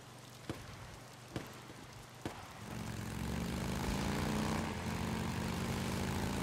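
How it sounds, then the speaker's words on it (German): Motorcycle exhaust in the video game Days Gone, three sharp knocks and then a steady, loud engine drone that rises and holds to the end, with no voices. "Ah, der Auspuff ist schon ganz geil,"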